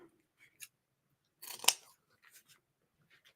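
Scissors snip the ribbon tails on a copper and moss autumn wreath built on a ring board, one sharp close cut with a few faint rustles and small clicks around it.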